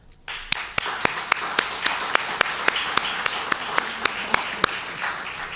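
Audience applause welcoming a lecturer at a talk, steady crowd clapping with a few sharp, loud individual claps standing out at a regular beat, continuing for about five seconds.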